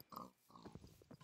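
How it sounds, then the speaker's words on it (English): Pig oinking in the Minecraft video game, a few short grunting calls in quick succession, fairly close and moderately loud with no talking over them. "We got some pigs over here."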